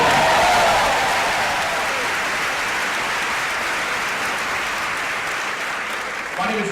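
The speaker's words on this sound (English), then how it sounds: "You can clap for that." An audience at the Convocation 2016 welcome claps, with a loud burst at the start settling into steady, sustained applause from a large crowd that tails off near the end.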